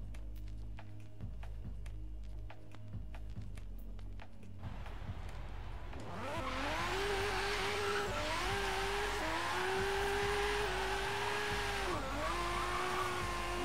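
A Nissan Skyline R31 in Forza Horizon 3 rests with a low idle and scattered clicks, then the engine roars up loudly after about six seconds, climbing and shifting in steady strained rises through the gears.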